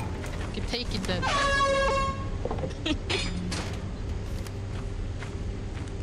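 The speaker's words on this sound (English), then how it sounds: "give me back my air horn" Air horn in the video game Lethal Company, a loud sustained horn blast with layered tones lasting about a second, followed by shorter bursts, with players talking over it throughout.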